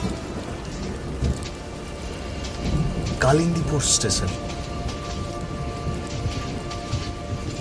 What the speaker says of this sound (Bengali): প্রচন্ড ঝড় বৃষ্টি বইছে বাইরে